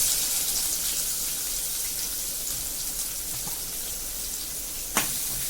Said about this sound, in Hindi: तेल गरम हो गया, उस सबसे पहले हम कड़ी पत्ता डालेंगे इसमें और उसके बाद प्याज